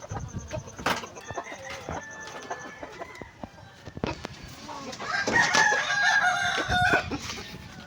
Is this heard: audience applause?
no